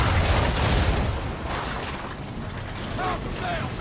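Ship cannons fire a broadside in Assassin's Creed III: a heavy, rumbling volley of booms at the start, then wind and water noise with shouted crew voices.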